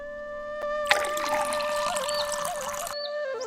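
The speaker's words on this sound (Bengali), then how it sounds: "এখন এটা ড্যামের মধ্যে ঢেলে দিচ্ছি।" Liquid pesticide, measured out as 30 ml, is poured into a small water-filled basin in a bitter gourd field, a steady close pouring splash lasting about two seconds over faint background hum.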